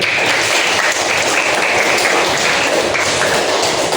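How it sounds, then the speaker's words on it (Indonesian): Loud, close applause from a classroom of students praising a classmate, dense and steady clapping throughout with no talking over it. "Benar, tepuk tangan untuk Bagalu."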